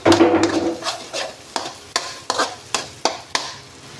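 Garlic fried rice (sinangag) is stir-fried in a pan, with a faint sizzle under sharp, regular scrapes and taps of the spatula against the pan, about one every half second, heard close and with no talking.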